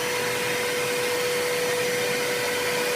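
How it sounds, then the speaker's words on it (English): A shop vacuum runs for a CNC router dust shoe, a loud steady whine with a constant pitch that holds unchanged from start to end, with no talk over it. "so we're going to turn the vacuum on. It's going to get loud"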